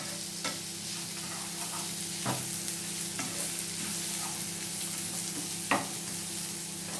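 Spices sizzle steadily in hot oil for a Kerala chicken ularthiyathu while a spoon stirs them, with a constant frying hiss under a handful of sharp scrapes and taps against the pan.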